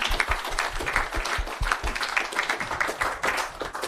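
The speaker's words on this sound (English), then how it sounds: "Can we get a big round of applause for Lucy Zellick, ladies and gentlemen?" A crowd at a sport and business speaker event claps for a presenter, a steady, moderately loud wash of hands with distinct individual claps standing out.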